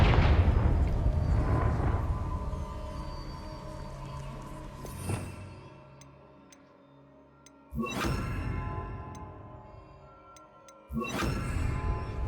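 A Confringo fire spell from Hogwarts Legacy lands with a loud blast that fades into a ringing decay. A second and third heavy burst follow, each dropping to quiet ticking in between, and no one speaks.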